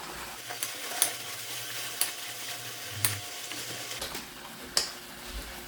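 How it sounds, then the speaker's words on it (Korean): Vegetables with cucumber stir-fried in a pan for japchae: a soft steady sizzle with sharp periodic clicks and scrapes of a utensil against the pan, quiet and close. "오이는 생것으로 먹어도 되니까 마지막에 넣어서 살짝만 볶으겠습니다"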